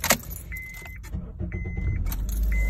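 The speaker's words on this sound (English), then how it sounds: "I'm starting the Honda Accord" A Honda Accord is started: keys jangle up close, a few chimes and clicks follow, then the engine cranks and settles into a low, steady idle, with no talking.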